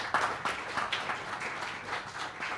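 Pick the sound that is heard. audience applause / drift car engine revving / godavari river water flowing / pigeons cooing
audience applause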